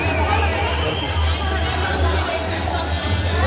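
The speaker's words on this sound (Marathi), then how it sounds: "तर सर्वजण इथं गर्दी करत आहेत." A dense crowd murmurs inside a stadium at an event in Pune, a steady wash of chatter and babble with a low hum underneath, no single voice standing out.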